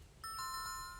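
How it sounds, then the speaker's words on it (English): Doorbell chime at a mansion door in the video game 2064: Read Only Memories, a clear electronic ding-dong of two bright tones with sustained ringing overtones, heard alone and close. "Maybe we should ring the bell first?"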